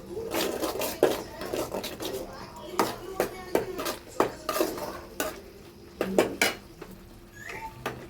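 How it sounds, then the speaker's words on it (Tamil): A metal spoon stirs and scrapes through spiced masala with chilli powder and sambar powder in a cooking pan for dried-fish thokku, giving close, repeated clinking strokes in an uneven rhythm over a faint sizzle, with a voice briefly in the background. "நல்லா கலரி விட்டுக்கலாம்"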